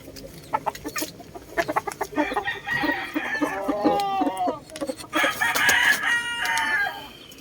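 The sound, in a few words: fighting roosters crowing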